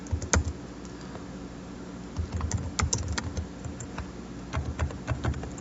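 Close, quiet typing on a computer keyboard while entering database details during a WebLogic and ADF server setup, with irregular bursts of key clicks and short pauses, no talking.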